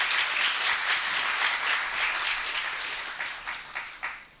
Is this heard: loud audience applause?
yes